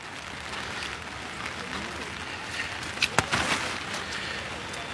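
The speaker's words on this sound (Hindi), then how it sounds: "पानी की बहुत बारिश तेजी से हो रही है" Heavy rain pours onto the tents at a farmers' protest camp on a cold night, a steady broadband hiss throughout with a few louder splashes and knocks near the middle, no one speaking.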